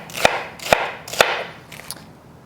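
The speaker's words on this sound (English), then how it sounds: "now we're just going to chop these into slices" Romaine lettuce being chopped into slices with a knife on a board: three sharp, evenly spaced chops close by, then two softer cuts, with no talking.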